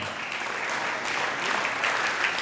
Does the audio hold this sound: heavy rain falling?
no